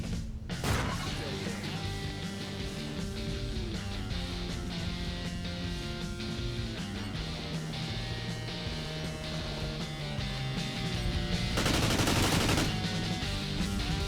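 MTAR rifle fire from Call of Duty: Advanced Warfare competitive play, a rapid rattle of shots under loud game music and effects, with a heavier burst near the end.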